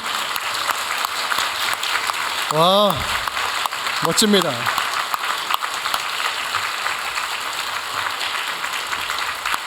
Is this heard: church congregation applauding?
yes